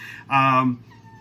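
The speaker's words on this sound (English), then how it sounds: "That's my cat Moo." A pet cat gives a single clear meow, close and fairly loud, a short rising then falling cry lasting about half a second in an otherwise quiet kitchen.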